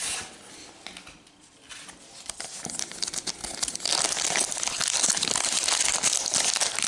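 A Pokemon Lost Thunder booster pack's foil wrapper crinkles and then tears open, with close, soft crackling that builds into a louder, sustained ripping and rustle.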